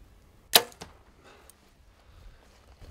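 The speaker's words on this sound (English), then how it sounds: "That first arrow, I thought actually sounded quieter" A bow with a quiver attached releases a single arrow shot: one sharp, fairly close snap with a brief, muted follow-through thump, then quiet outdoor background with faint low rumble and no talking.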